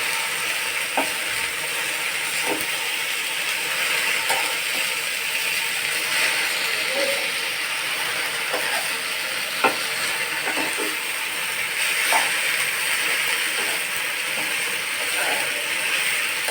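Slit green chilies frying with jute leaves in a pan, a soft continuous sizzle with scattered light scraping and clicking stir strokes, close and fairly quiet, with no talking.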